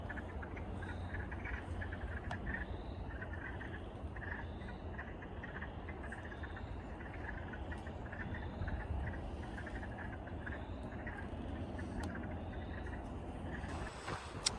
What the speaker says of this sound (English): I can really hear some frogs in the water.